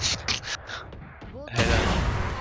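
Gunfire from Valorant, a tactical shooter, comes as a few quick shots followed by a loud burst, while players talk over the action.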